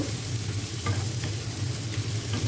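Pumpkin and onions frying together with hilsa fish in a pan, a steady dense sizzle with occasional stirring scrapes, close and continuous, no voices.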